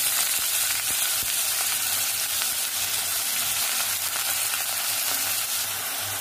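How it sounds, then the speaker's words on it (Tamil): Vadagam and onion fry in oil in a pan, giving a dense, even, close-up sizzle that holds steady throughout with faint stirring taps beneath. "வானலில் எண்ணெய் போட்டுட்டு வடகம் போட்டுட்டேன். வடகம் நல்லா பொரிஞ்சதும் நெக்ஸ்ட்டு ஆனியன் போட்டுக்கு போகிறோம்."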